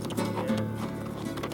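Camargue horses heading home in the French countryside, a short run of soft hoof clip-clops over a low steady background, moderately near.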